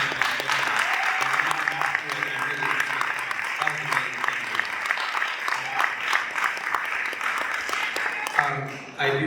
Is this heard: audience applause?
yes